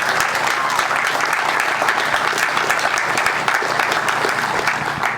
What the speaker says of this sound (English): Let's give another round of applause for the veterans.